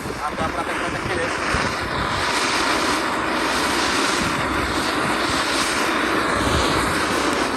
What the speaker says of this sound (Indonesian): Ini air mancur kerutut ya. Kita nyalakan di dalam tanah.